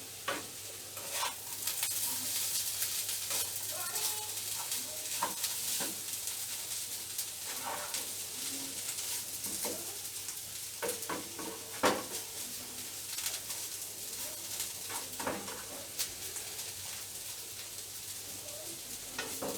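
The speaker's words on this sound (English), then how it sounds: "I'm going to mix it well so the flavor of the coconut should go through" A banana stem stir fry with coconut is stirred in a pan, giving repeated soft scrapes and clinks of a utensil over a low, steady sizzle for a long stretch, with no talking.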